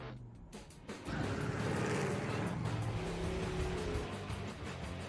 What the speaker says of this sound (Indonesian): tiba-tiba dia dikagetkan oleh sebuah mobil hitam yang melaju dengan kencang